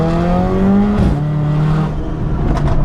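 Mercedes A45 AMG Stage 2 with a full Milltek race exhaust accelerating hard from inside the car, engine note rising loudly, a gear change near one second, then climbing again with sharp exhaust crackles toward the end.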